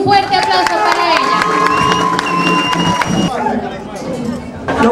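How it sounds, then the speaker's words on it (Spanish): Crowd at a youth political rally for the PRD in Salcedo cheering and applauding a national youth coordinator, a dense roar of voices and clapping with a few whistles, loud and close throughout. "Un fuerte aplauso para ella."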